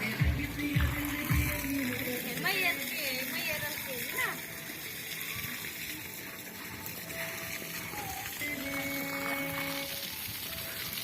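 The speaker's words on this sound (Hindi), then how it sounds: "धो लो बढ़िया, हाथ पांव धो लो" Hot water runs and splashes as hands and feet are washed, a steady gushing trickle with intermittent splatters, heard under conversation and a voice.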